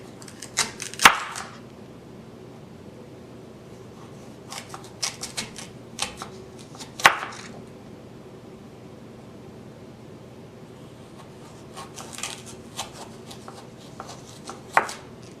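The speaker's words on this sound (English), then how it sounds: "Place the flat side down and cut lengthwise into approximately 1/2 inch" A knife slicing a sweet potato lengthwise on a cutting board, heard as short clusters of crisp chopping knocks separated by quiet pauses, close and clear with no talking.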